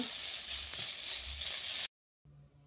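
Bottle gourd leaf paste fries and is stirred in a pan, giving a close, dense sizzle that cuts off abruptly, followed by a faint low hum.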